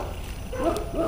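Dogs barking a short way off beside a bass-fishing spot, a few sharp yips and barks in the second half over low outdoor background noise.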